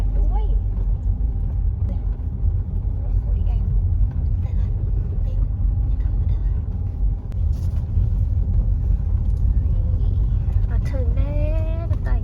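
A car rolls into a riverside campsite on the Khwae Noi River in Thailand with a steady, low engine rumble throughout. Faint higher sounds appear near the end.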